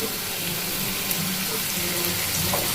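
Water poured into a paneer masala curry in a pan, a steady splashing, rushing pour lasting a few seconds.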